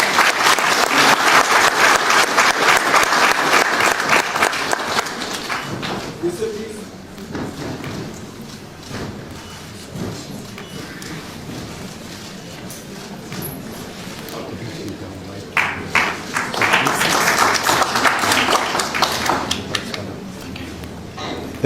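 An audience at an official handover ceremony applauds loudly for about five seconds. Quieter clapping and some murmuring follow, then a second strong burst of applause comes near the end.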